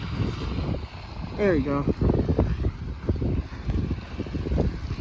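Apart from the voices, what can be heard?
wind during a snowstorm blizzard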